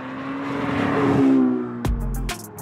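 A loud sports car exhaust roar swells and builds as the car revs hard, then cuts off abruptly, followed by a few sharp bangs and thumps.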